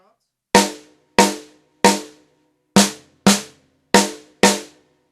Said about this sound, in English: the drumstick hits the rim and the drum head somewhere around the center at the same time